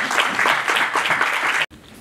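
A forum audience applauds to welcome a speaker, with dense, bright clapping for under two seconds before it cuts off abruptly.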